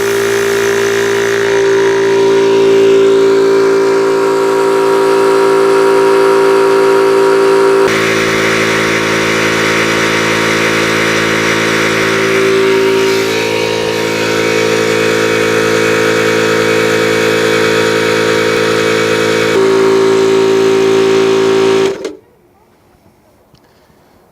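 A Yong Hang 300 bar high-pressure air compressor motor runs loud and steady with a constant droning hum for about twenty seconds, then cuts off abruptly into near silence.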